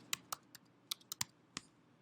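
Typing on a computer keyboard: a handful of crisp, irregular key taps over about two seconds, close but quiet, with no talk.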